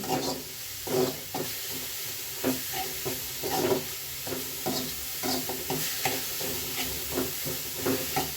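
Grated carrot roasting in a pan for payasam, stirred with a utensil: soft sizzling under a rhythmic series of scraping stirs repeating about every half second to second, close and unvoiced.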